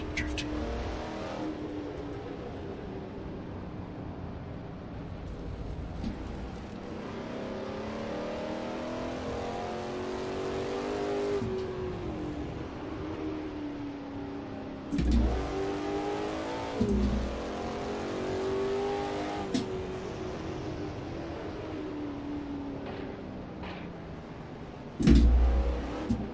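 A race car engine in a sim racing game revs and drifts on a fictional track, rising and falling pitch sweeps with sharp gear-shift bursts, steady and close, with no talking.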